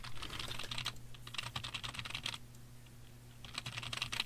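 Fingers typing on a computer keyboard, bursts of quick clicking keystrokes in a close, quiet room with short pauses between runs and a faint low hum underneath.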